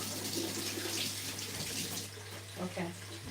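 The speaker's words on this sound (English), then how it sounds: "I'm going to just give it a rinse" Cabbage pieces rinsed under a running kitchen tap for white cabbage soup; a steady hiss of flowing water with splashy shifts as the pieces are moved, close up, and a voice briefly audible toward the end.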